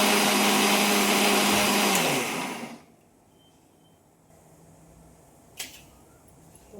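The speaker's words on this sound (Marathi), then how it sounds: "आता मी मिक्सरला आता चटणीचं वाटण घेते." A kitchen mixer grinder blending chutney paste roars with a loud, steady whir for about two and a half seconds, then cuts off, leaving a quiet room with a single faint click.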